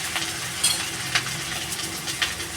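Ginger and ground coriander frying in a pan for a Bengali prawn and pumpkin chorchori, a steady close sizzle with a few soft scraping stirs and light clinks, no talking.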